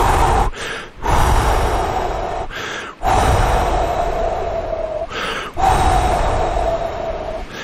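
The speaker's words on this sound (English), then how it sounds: "Take a couple of deep breaths." A person takes deep breaths close to the microphone, with three long, loud airy breaths broken by short pauses, each one heavy and rushing.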